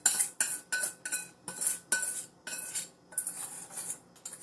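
A metal utensil stirs eggs into molten chocolate cake batter in a bowl, giving quick repeated clinks and scrapes in bursts with short pauses, close and fairly quiet, with no voices.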